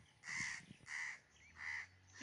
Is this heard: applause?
no